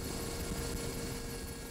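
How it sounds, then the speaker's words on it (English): Royal Navy combat helicopter in flight, a steady, low rotor drone that holds even throughout and plays alone at moderate level with no voices. "The Royal Navy has its own fleet of combat helicopters, some among the most advanced in the world."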